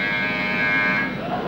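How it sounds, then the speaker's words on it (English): An emergency buzzer sounds aboard an aircraft, a steady, harsh, continuous tone that stays loud and level throughout the short stretch, with no talk over it. "Immediately the emergency buzzer sounds."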